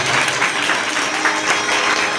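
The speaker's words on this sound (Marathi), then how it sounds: "त्याच्यासाठी मोठ्या टाळ्या वाजवा" Steady audience applause at a Marathi bharud devotional folk performance, dense and loud clapping sustained throughout without talk.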